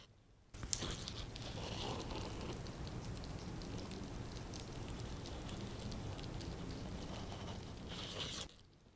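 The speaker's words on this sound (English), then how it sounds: "but the paint is literally jumping off the car." A strip-it disc grinds flaking paint off a car hood in one continuous close, crackling scrape, full of rapid ticks and chips for about eight seconds before cutting off.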